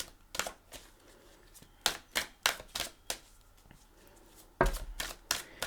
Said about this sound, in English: I just like to give it a couple shuffles with you here.